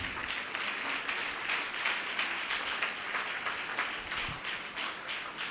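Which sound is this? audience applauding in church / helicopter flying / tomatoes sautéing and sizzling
audience applauding in church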